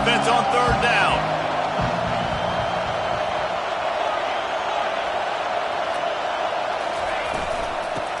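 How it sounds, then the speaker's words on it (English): Stadium crowd in the College Football 25 game on a third-down defensive stand, a dense, steady roar of cheering that fills the whole clip, loud and continuous, with a few thuds near the start. "Decibels rising as the crowd gets behind this defense on third down."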